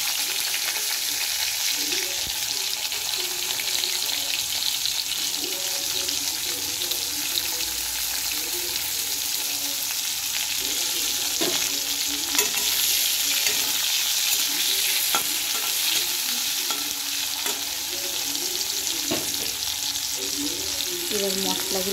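Chopped tomato sizzles steadily in a hot pan with bay leaf, stirred now and then, the frying hiss continuous and close with soft scraping knocks of a spoon throughout.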